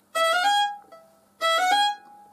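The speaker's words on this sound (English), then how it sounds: "So this tune, it starts off with a triplet." A fiddle plays two short bowed phrases alone, each opening with a quick triplet of three short notes before settling into sustained tones, with a brief gap between them.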